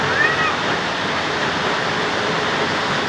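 Floodwater pours quickly into a house and reaches the rooms, making a loud, continuous rushing roar like a waterfall with no break.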